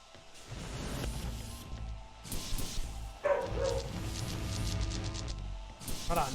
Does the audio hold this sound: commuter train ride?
no